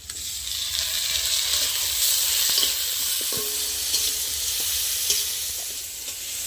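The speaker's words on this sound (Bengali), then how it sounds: "টমেটোটার পেঁয়াজটা একটু ভালো করে ভেজে নেবো" Onion and tomato sizzle and fry steadily in a pan, a constant hiss broken by a few light clinks and scrapes of stirring.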